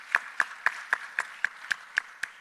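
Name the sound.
audience applause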